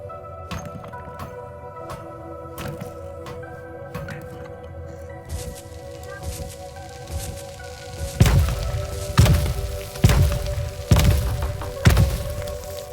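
Bombs blast blocks apart in the voxel game Boundless: a run of five or six heavy thuds lands at roughly one-second intervals over a steady hum of game tones, with an earlier stretch of lighter, sharp clicks.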